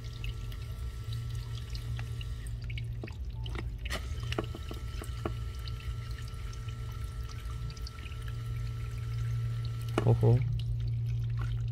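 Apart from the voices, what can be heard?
water flowing in smart farm irrigation drainage pump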